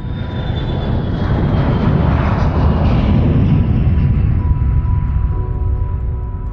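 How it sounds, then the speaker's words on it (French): A fixed-wing passenger airliner, British Airways flight 5390, roars steadily and loudly during its takeoff roll, a broad continuous engine rumble with a faint whine, close and with no talk. "Il est 7h20, l'avion décolle."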